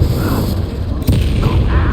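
Spell blasts in the Hogwarts Legacy video game burst out as loud, heavy booms over a dense rumbling battle bed, with a sharp impact near the middle of the two seconds.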